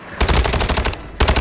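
Rapid automatic gunfire from a first-person shooter video game rattles out in one long burst, pauses briefly, then starts a second burst, loud and close.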